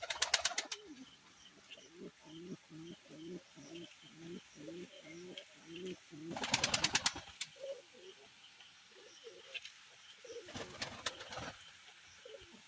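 Steady rhythmic pigeon cooing from a pair of red Chila pigeons at a pigeon farm, a run of low soft coos repeating close by, broken by brief louder bursts of flapping or rustling.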